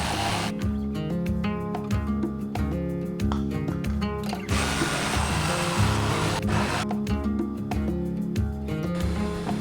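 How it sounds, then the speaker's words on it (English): A jigsaw cuts a sink opening in the countertop of a DIY Humvee camper, a close, loud, buzzing motor whine with rapid rasping strokes, running steadily with brief shifts in pitch as the blade moves through the material. "cut it the old-fashioned way with a jigsaw"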